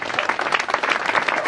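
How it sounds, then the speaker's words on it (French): A crowd at a cadet competition award ceremony applauds the teams on the podium. The clapping is thick and continuous, with rapid overlapping hand claps at a steady loudness from start to finish. "Je vous demanderai tout simplement de les applaudir"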